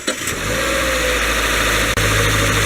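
A 2015 Subaru Forester engine catches after a brief crank and settles into a loud, steady idle, heard up close with no talking.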